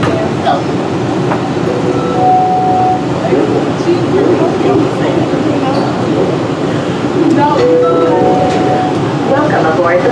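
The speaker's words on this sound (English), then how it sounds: "Welcome aboard the plane train." The Atlanta Airport Plane Train, an underground people mover, rumbles steadily and loudly from inside the car with rail noise and brief tonal chimes, while announcements and voices carry over it.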